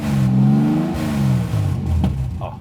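A 1970s VW Transporter 2 van with a Porsche engine revs close by, pitch rising and then falling as the throttle is held and released.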